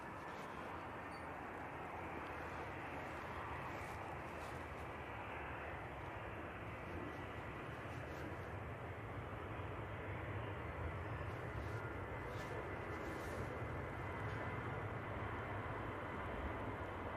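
A Ryanair airliner arriving from Bratislava at Manchester Airport, a steady distant broadband roar of jet engines that holds evenly throughout without breaks.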